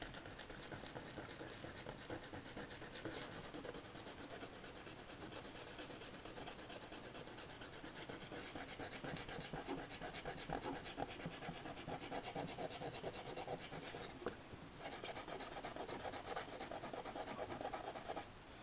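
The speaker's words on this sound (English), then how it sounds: "I folded my scotchbrite pad because I needed more control and more location. And I went in and I started to scrub." A folded Scotch-Brite pad scrubs across a crystal iceberg painting in a steady, continuous rasping rub with a close, even loudness and no pauses.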